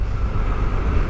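A BMW motorcycle passes by on the road, a brief continuous rush of engine and road noise holding steady for just over a second.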